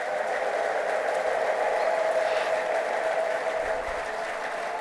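A church congregation applauds and ululates in praise during a sermon: dense, continuous clapping with a bright ululating tone running through it, holding steady for several seconds and then easing slightly.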